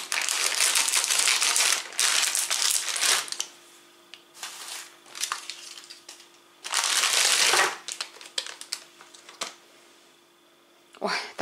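Amaretto liqueur chocolate candies unwrapped from their packaging, loud close bursts of crinkling and crumpling wrapper separated by quieter pauses, with a person speaking briefly in between.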